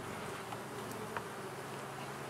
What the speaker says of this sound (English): Looks like there's more bees in there.